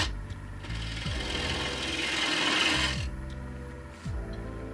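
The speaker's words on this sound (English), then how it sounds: "Each light pass with the gouge shaves away the uneven fibers, leaving the walnut sharp and crisp along the rim." A gouge shaving walnut on a wood lathe, a steady rough scraping hiss that swells and fades over a few seconds, with the lathe's low hum and periodic clicking underneath.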